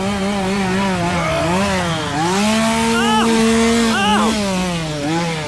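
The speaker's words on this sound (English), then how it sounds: "Too many chainsaws." Loud, continuous droning of engines, like several chainsaws running at once, their pitch rising and falling as they rev, on a Christmas-themed haunted trail.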